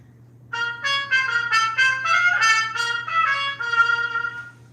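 A trumpet with a Harmon mute, stem in, plays a short, nasal melodic phrase, thin and buzzy in tone, heard clearly with no talking.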